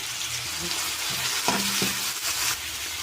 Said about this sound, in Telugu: ముందుగా ఆయిల్ పెట్టుకుని ఆయిల్ హీట్ అయిన తర్వాత జీలకర్ర వేయాలి, ఉల్లిపాయ ముక్కలు, పచ్చిమిర్చి ముక్కలు